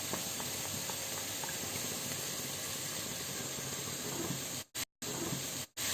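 Beaten eggs seasoned with pepper powder hit a hot pan for restaurant-style chicken fried rice, giving a continuous loud sizzling hiss that cuts out briefly twice near the end, no talking.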